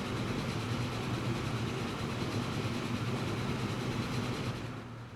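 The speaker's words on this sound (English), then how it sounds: "Now that the trains are actually going at a reasonable speed" Trains running in a transport video game, a steady loud rolling rail rumble with a constant drone that fades slightly near the end.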